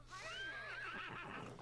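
A horse in a video game lets out a single whinny, a wavering cry that rises and then trails down over about a second and a half, moderately faint and with no one talking over it.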